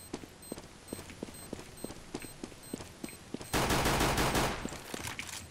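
Counter-Strike: Global Offensive gunfire, a regular series of sharp single shots about every third of a second, then a loud, sustained blast of rapid fire and noise that carries through to the end, no voices.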